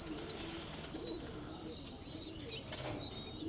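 Young pigeons in a loft give soft, repeated cooing and squeaky calls, faint and close by, with light rustling in the background.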